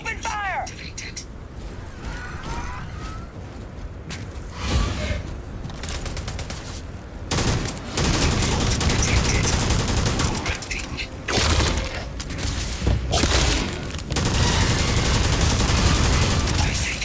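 Gunfire from the video game Call of Duty: Vanguard rattles in loud, dense bursts and volleys with cracks and mechanical clatter, nearly continuous through the second half.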